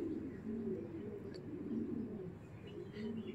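Pigeons of an old racing-club breed coo in low, throaty rolling bursts, fairly close and steady, with faint scattered chirps in the background.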